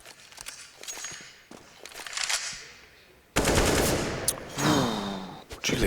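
Rapid AK rifle bursts in a competitive CS:GO match on Overpass, sharp repeated shots with footsteps between, growing louder and denser toward the end.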